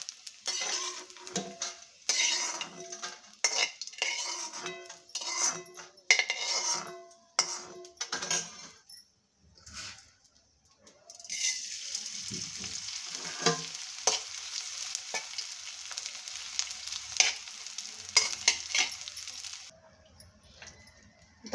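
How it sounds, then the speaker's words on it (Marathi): Edible gum (dink) frying little by little in hot ghee, a steady bright sizzle that swells and settles in waves, with stirring and occasional scrapes and clinks of a utensil against the pan. "आता थोडा थोडा टाकून डिंक तळून घ्यायचा आहे"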